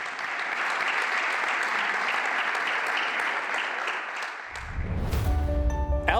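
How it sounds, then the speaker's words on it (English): An evening audience in Madrid gives a steady, dense round of applause for several seconds, ending in a brief ringing tone and louder, rumbling crowd noise. "Round of applause for Robert."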